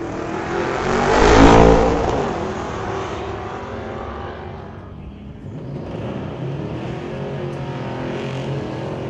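Ford Mustang and VW launch side by side in a street-legal drag race at Mission Raceway Park, engines roaring loud and close at the start, then fading as the cars pull away down the strip, with a steady engine drone continuing.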